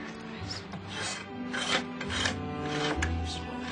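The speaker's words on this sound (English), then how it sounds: "do some finishing work on these dolls. Need the scraper." A hand scraper rasps over wood while finishing dolls, giving short repeated scraping strokes, close and fairly quiet, with no talking.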